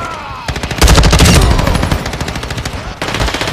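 Rapid automatic gunfire from an Icarus 556 light machine gun in Modern Warfare 2, a dense unbroken stream of loud close shots that briefly pauses near the end before resuming, with no talking.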